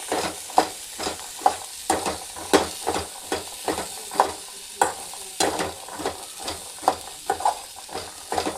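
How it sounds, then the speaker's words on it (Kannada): A spoon stirs a frying dish in a pan in quick repeated scrapes and knocks over a soft, continuous sizzle, close and fairly loud, with no talk. "ಚಮಚ ಜರ ಅಳಗಾಡ್ಸೋದ್ರಿ."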